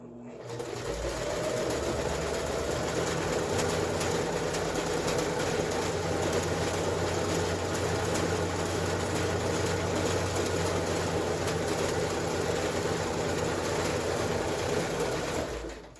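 A sewing machine runs steadily and closely, stitching down the seams on either side of a fabric face mask with a filter pocket and ties. The motor holds a continuous, even whir for the full stretch.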